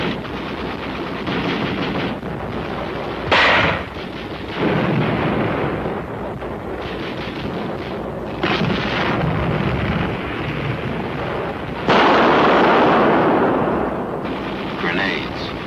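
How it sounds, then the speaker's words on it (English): Korean War combat with 60-millimeter mortar fire, heard as repeated heavy thuds and sharp blasts amid a continuous noisy roar of battle, loud and close, with some voices mixed in. "60-millimeter mortar. Bites like a 75 gun shell."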